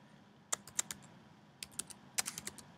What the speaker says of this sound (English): let's just go ahead and type in